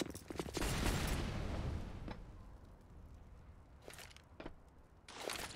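Rifle fire in a Counter-Strike match on the Nuke map comes in quick, sharp bursts at low volume, with a few separate shots and a faint rumble between them.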